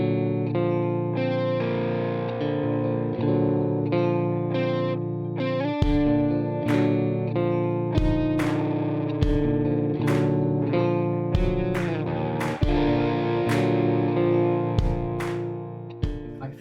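Melody played through heavy gain and distortion, thick and sustained with chorus and echo, loud and continuous, with sharp re-attacks as new notes strike over a droning low layer.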